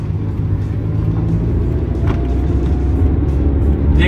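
A manual-transmission car drives along with a loud, steady engine rumble and road noise from inside the cabin as the driver shifts gears and releases the clutch, with no talking.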